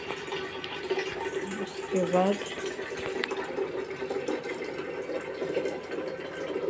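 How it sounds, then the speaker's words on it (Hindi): Tap water runs into a container in a home kitchen, a steady moderate splash, while someone talks over it throughout. "पानी ले रहे हैं गर्म करने के लिए"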